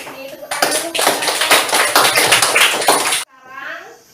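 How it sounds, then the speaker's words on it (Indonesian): A classroom of children clapping hands together in a dense, loud burst lasting about three seconds that cuts off abruptly, followed by brief faint chatter. "Tepuk tangan dulu."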